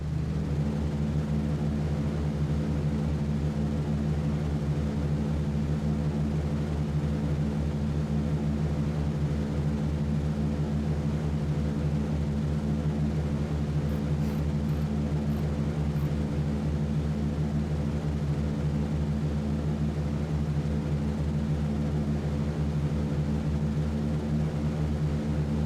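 B-17 bomber engines at takeoff in the flight game B-17 The Mighty 8th, a steady, loud multi-engine propeller drone with a deep throbbing hum that continues unbroken for the whole stretch.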